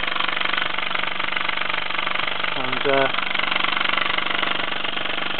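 A 1948 Mamod SE1 short-stroke model steam engine spins quickly, giving a steady, close whirring drone while someone talks over it.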